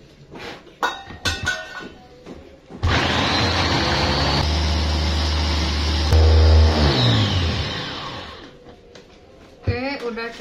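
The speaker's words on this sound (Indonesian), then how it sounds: "Sekarang saya mau blender bawang putih dan bawang merahnya dulu ya teman-teman" An electric blender whirs loudly for several seconds, chopping garlic and shallots with a steady motor drone that rises in pitch, bracketed by kitchen clatter and someone talking before and after.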